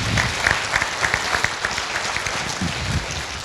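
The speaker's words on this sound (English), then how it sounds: "I think they deserve a round of applause" Forum crowd applauding emergency services, a close burst of many hands clapping that stays dense and lively for a few seconds with faint crowd murmur beneath.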